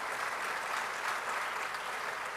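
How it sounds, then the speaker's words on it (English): Applause from a university lecture audience greeting the vice chancellor, steady and fairly faint, a continuous patter of many hands without break. "Ladies and gentlemen, please applaud our vice chancellor, Professor Mrs. Rita Akosua-Dixon."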